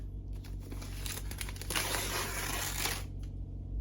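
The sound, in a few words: unwrapping a book wrapped like a present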